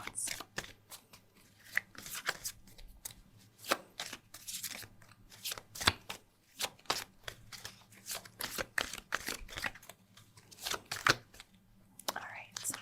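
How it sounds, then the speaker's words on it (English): Tarot cards being shuffled by hand in a close, quiet ASMR setting: a steady run of crisp riffles and soft slaps, repeating irregularly for the whole stretch. "I'll just shuffle these cards a little bit so that you don't miss out on the lovely shuffling sounds."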